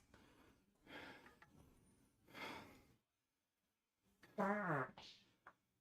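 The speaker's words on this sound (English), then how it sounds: "Man, I'm so farty today." A flatulent fart at a gym during a back and biceps workout, a short wet rumbling burst near the end, preceded by two softer breathy exhalations and a brief silence.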